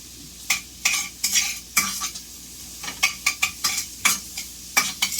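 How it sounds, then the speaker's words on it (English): Onions tossed and stirred in melted butter in a pan, giving a series of close, sharp scraping and clinking strokes over a faint sizzle, with no talking. "and then throw your onions in."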